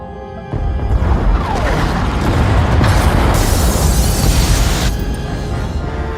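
Pod bays are destroyed in the video game SWTOR with a sudden loud blast that becomes a sustained, rumbling roar of explosions and debris, dense and continuous for several seconds.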